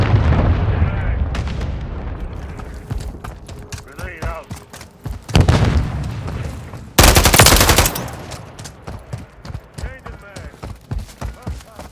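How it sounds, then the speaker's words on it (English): Loud, close explosions and heavy gunfire in Call of Duty: Modern Warfare III, with big booming blasts near the start, middle and around seven seconds, rapid shots in between, and some voices under the din. "Friendly cruise missile approaching target."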